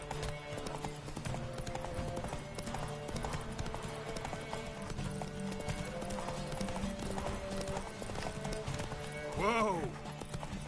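A horse galloping in The Witcher 3, with rapid rhythmic hoofbeats over in-game music and a short whinny near the end, while someone speaks.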